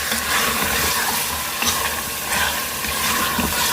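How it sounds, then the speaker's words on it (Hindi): Mutton with garlic-ginger paste frying in a pot for curry, giving a steady close sizzle with faint stirring scrapes throughout, no talking. "ये अच्छे से हमारे भुनाई हो जाए।"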